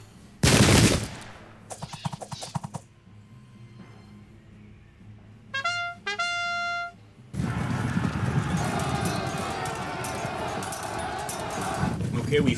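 A burst of gunfire and horse sounds from a Custer's Last Stand strategy game, sharp volleys and rhythmic clattering hoofbeats with a whinny, followed by a loud rushing battle din, with talk in between.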